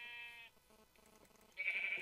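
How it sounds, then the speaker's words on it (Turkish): Two short sheep bleats from the video game Minecraft, one at the start and a louder one at the end, with a quieter game background between them. "Öncelikle 3 tane koyuna ihtiyacımız var yün için."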